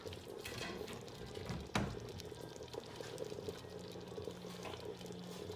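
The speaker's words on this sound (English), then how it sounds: "Let me let me pour a bowl of this so you see what it looks like." Carne guisada stew pours into a paper bowl as a faint, continuous wet hiss, with one soft thump partway through.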